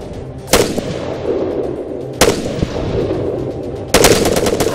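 Machine gun fire in Arma 3: sharp, loud reports at intervals over continuous battlefield rumble, ending in a rapid burst, with no speech.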